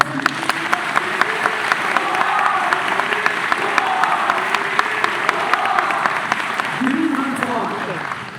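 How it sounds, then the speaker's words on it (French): Dense, steady applause from a large crowd fills the air as the staff of Walibi Belgium are cheered at a park pass event, with sharp individual claps standing out over the sustained roar. "Je pense qu'on peut encore les applaudir."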